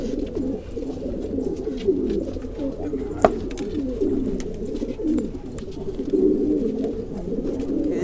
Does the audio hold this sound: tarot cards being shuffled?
no